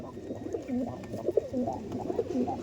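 Andhra pigeons coo close by, a series of soft, repeated throaty calls with a steady rhythm and no voices.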